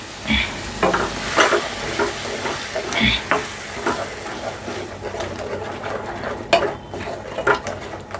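Tomato puree for a dhaba-style egg curry sizzles and spatters in a hot pan, a steady crackling hiss with occasional scraping stirs and clinks of a utensil, close and moderately loud with no talking.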